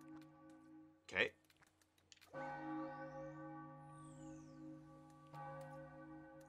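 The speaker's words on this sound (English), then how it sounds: "There's something to be said for this bell." A bell chimes in Super Mario Odyssey, a bright ringing tone with a long sustained decay, struck once and then again later, alongside other game sounds and a person talking.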